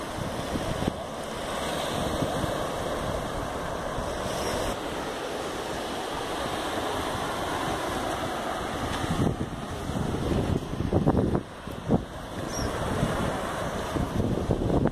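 Waves and wind at Praia da Ilhota beach in Itapema, with a continuous rushing wash of surf mixed with heavy gusts buffeting the microphone.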